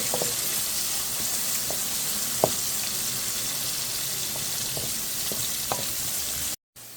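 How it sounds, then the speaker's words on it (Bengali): Green chillies and a little onion frying in a pan for chutney: a continuous close sizzle with occasional light utensil clicks, cut off abruptly near the end by a brief gap. "গাছের কাঁচা মরিচ আর অল্প পেঁয়াজ দিয়ে এখন এটা ব্রাউন কালার করবো"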